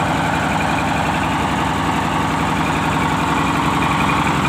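A large six-litre Mitsubishi Fuso truck engine idling close by, a loud, steady low rumble with constant vibration and no variation in rhythm, heard alone without voices.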